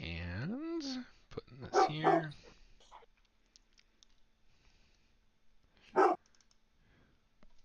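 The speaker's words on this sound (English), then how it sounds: "Sounds like we have a big dog." A big dog barks with a couple of deep, strained barks and a howling whine, then one more sharp bark after a pause, with a person speaking briefly in between.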